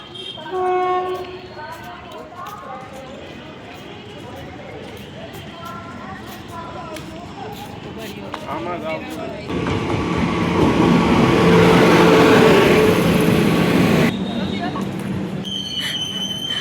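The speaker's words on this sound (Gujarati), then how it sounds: "ચાલો તો ટ્રેન જો આવે છે, દૂરથી દેખાય છે" A train rumbles in, growing louder to a heavy roar that holds for several seconds, then eases off; station chatter and an announcement tone earlier.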